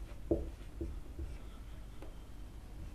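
A pen scratches out short strokes on paper while working a class 10 triangles geometry problem, a few soft scrapes and taps, close and quiet, with no talk.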